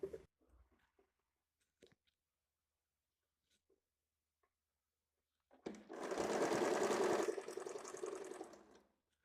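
A sewing machine stitches blouse fabric for a size 32 high-neck blouse, running in one steady, close burst of about three seconds after a few soft taps and handling noises.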